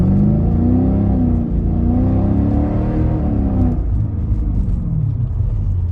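A Mercedes SL500 engine revs up and down in a loud, close, continuous rumble with rising and falling pitch, heard from inside the car with the window up and no talking.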